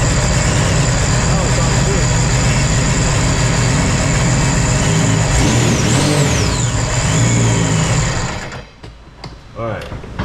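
A Sea-Doo RXP jet ski engine, just fitted with a replacement injector, fires up and runs with a loud, steady mechanical roar close by, then cuts out abruptly near the end, leaving quiet workshop sounds.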